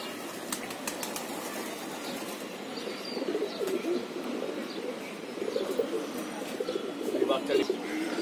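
Pet high-flying pigeons in a loft, with soft continuous cooing and occasional wing flaps and chirps, steady and moderately close, and no one speaking.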